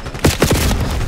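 Rapid bursts of gunfire in the video game Call of Duty: Black Ops 6, three or four loud close shots in quick succession over a booming background.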